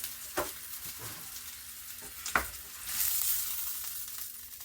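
Beef roast searing in a pan beside potatoes and carrots, a low steady sizzle with a few sharp pops and clinks, the frying hiss swelling louder toward the end.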